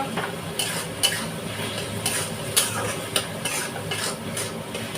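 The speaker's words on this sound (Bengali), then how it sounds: "মশলা কষানোর সঙ্গে সঙ্গে আলুগুলোকেও কষিয়ে নেব" Masala and potatoes stir-frying in a pan for a kabuli chickpea curry, with a continuous sizzle and repeated close scrapes and clinks of a spatula against the pan.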